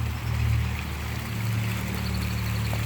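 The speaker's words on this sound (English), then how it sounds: "This is my waterfall backyard." A backyard waterfall flows in a steady, continuous wash of falling water, close and fairly loud, with no voices over it.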